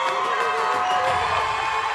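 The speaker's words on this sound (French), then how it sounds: "Vous pouvez encore les applaudir bien fort" A pageant audience cheers and claps for candidates at a Muguet queen contest in Compiègne, a loud, dense crowd roar sustained throughout.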